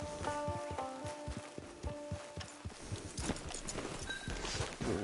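Horse hooves clip-clopping at a walk in Red Dead Redemption Online, a quick even run of close, crisp hoof strikes, fairly quiet, with no talk.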